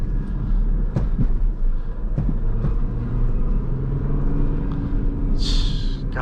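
Low diesel engine rumble and road noise from an EcoDiesel Jeep Grand Cherokee prerunner driven off-road, steady and loud with occasional knocks and clunks from the rough terrain.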